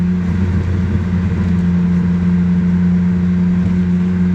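A Subaru XT6 coupe's six-cylinder engine with a five-speed manual drones steadily and loudly from close by, a constant mid-pitched hum with no talking.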